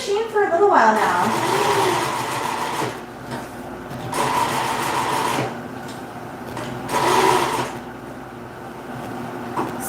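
A sewing machine top stitches in several close, steady runs with brief pauses between them, while a voice talks over it.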